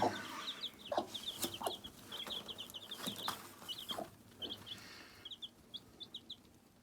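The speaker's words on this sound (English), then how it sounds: "Now that's 6 chicks." Newly hatched chicks feeding, including one small black chick, giving a run of high, quick cheeps and soft clucks that come in clustered bursts, close by, with faint rustling and pecking between calls.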